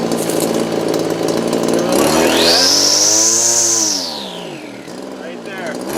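Weed eater engine with a freshly rebuilt Zama carburetor revving up to a loud high whine, holding briefly, then dropping back toward idle, close by.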